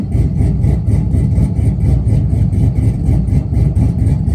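A tuned burnout truck idles with a heavy, lopey chop, its loud rumbling engine pulsing in a steady uneven rhythm close by, with no voices over it.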